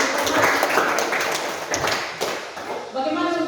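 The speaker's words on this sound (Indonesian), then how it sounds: "Tepuk tangan lagi." Applause from students in a classroom lesson, a dense patter of claps running steadily before fading into a voice starting to talk near the end.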